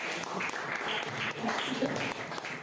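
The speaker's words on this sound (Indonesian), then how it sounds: "Give applause to your friend, tepuk tangan dulu buat temennya." A classroom of students claps briefly for a classmate during an English lesson, a short burst of mid-distance applause with a voice or two underneath.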